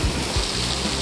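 A Madeira waterfall gives a brief, steady rush of falling water with a couple of low thumps, heard alone.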